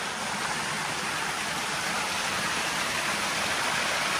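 A forest stream on Núi Cấm mountain along the Thủy Liêm creek rushes steadily, a dense, even wash of flowing water close by with no breaks or voices.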